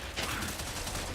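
Gunfire in The Outer Worlds 2 video game, a rapid burst of shots blurred into a dense rattle. It is heard mid-firefight at moderate level, with no speech over it.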